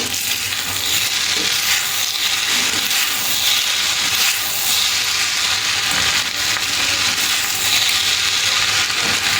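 Mung bean pulao with boiled rice and cooked spices is stirred in a pot, giving a steady, loud sizzle and hiss with scraping stirs throughout.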